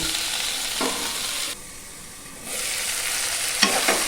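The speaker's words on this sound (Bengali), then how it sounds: "এইভাবে হালকা করে নাড়াচাড়া করে নিয়ে আমি একটু চাপা দিয়ে দেব" Ridge gourd slices frying in a pan while being gently stirred, with a constant hissing sizzle that drops briefly in the middle and a couple of clear scraping strokes, close and without speech.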